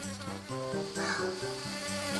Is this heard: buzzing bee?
yes